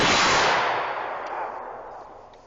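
A single loud shotgun blast from a 21-gun salute volley at a memorial, with a sharp crack that decays slowly into a long rolling outdoor echo.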